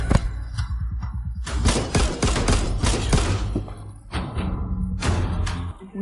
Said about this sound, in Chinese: 51式手枪，弹夹容量8发，